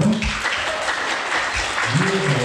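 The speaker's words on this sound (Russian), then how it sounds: "Я предлагаю еще раз подарить аплодисменты" Audience applause at a Q&A session of an open public event, a short burst of steady clapping that fills the whole moment, fairly loud with no talking over it.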